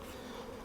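Honeybees buzzing around late-winter beehives, a dense, steady insect hum close by with no talk, lasting under a second.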